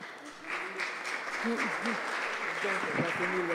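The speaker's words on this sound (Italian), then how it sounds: "Un applauso." Audience applause at a session in Amalfi, a steady bed of clapping lasting a few seconds while a voice speaks over it.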